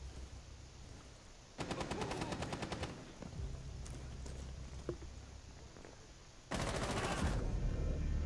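Automatic gunfire in Rainbow Six Siege, two loud rapid bursts of rifle fire with a sparse single shot between them, over low game ambience and footsteps.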